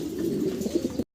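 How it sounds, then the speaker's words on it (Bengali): Andalusian fancy pigeon coos in a low, throaty rolling burst of about a second, close and clear, with no talk. "ফুললি অ্যান্ডালুজিয়ান ঘর থেকে আসা দুইটা কবুতর"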